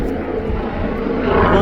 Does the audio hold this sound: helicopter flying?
yes